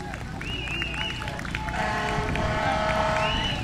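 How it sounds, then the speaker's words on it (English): Crowd applause welcoming a speaker at an outdoor Tea Party rally in Dallas, Texas, a steady wash of clapping and cheering heard at a distance, fairly faint, with some whistling tones on top. "Give him a big round of applause."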